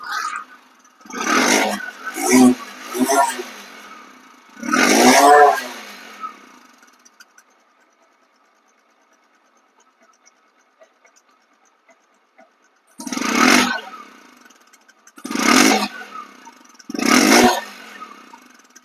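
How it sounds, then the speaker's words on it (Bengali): A second-hand Bajaj Discover 100cc motorcycle revs in several loud, close bursts, each a short roar with a rough rattle, broken by a long quiet gap in the middle. "বাস্তব ইঞ্জিনের যে সাউন্ড এটা হচ্ছে 2000 কিলো চলার যে সাউন্ড হুবাহুব এরকম কিন্তু আছে"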